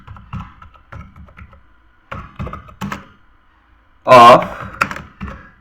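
Keys tap on a computer keyboard while someone types a heading in a basic computer course lesson. The clicks come in short clusters under ongoing Bengali speech, with one loud vocal burst partway through.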